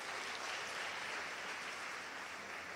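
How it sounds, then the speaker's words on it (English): Warm applause from a youth roundtable audience welcoming a government minister, steady continuous clapping throughout, fairly quiet and distant. "May we please give Honorable Minister Chikunga a very warm round of applause."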